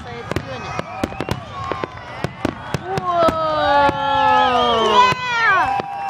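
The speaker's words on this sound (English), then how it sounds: "Yay, fireworks!" A Fourth of July fireworks finale pops and bangs in rapid, irregular sharp bursts, close and loud, while excited voices cheer and shout over the explosions.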